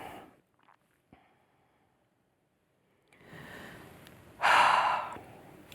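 Slow, deliberate breathing during a reflective pause: a near-silent stretch with faint breaths, then a soft drawn-out inhale and one louder, fuller exhale that tapers off.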